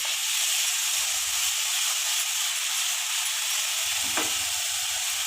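A patolya mixture is stirred and mixed in a pan, giving a steady, close hissing sizzle that holds without a break, with a faint scrape of the spoon near the end.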